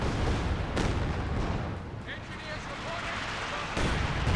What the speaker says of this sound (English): There's heavy mortar barrage.